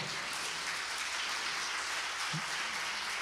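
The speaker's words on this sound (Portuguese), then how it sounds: "Você pode aplaudir ao Senhor?" A church congregation claps together, producing a steady, diffuse hiss-like patter of many hands at moderate volume that continues without a break.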